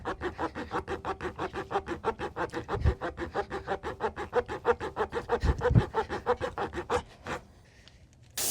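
A reamer tool is pushed in and out of a tire puncture in a rapid, even rhythm of rasping strokes, close and clear, ending with a brief pause and one last scrape.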